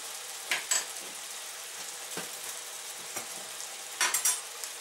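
Chinese green beans stir-frying with ground pork in a pan, a low steady sizzle broken by several sharp scraping tosses of the spatula at irregular intervals, fairly quiet and with no talking.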